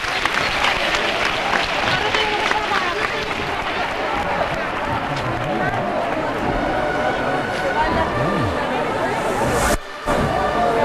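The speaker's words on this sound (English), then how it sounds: "They're clapping and applauding, and soon I believe they'll be chanting." Crowds clapping and applauding at a Holy Week procession in Seville, loud continuous applause mixed with crowd babble and voices, with a brief dropout near the end.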